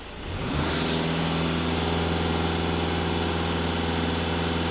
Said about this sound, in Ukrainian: Так, 22 тиск, даю газ в пол.